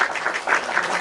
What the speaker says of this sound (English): I beg, stop clapping.